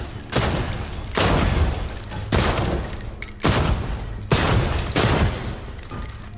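Five heavy gunshot bursts at shooting-range targets in the spy game Defector, evenly spaced about a second apart, each loud and booming with a long decaying tail.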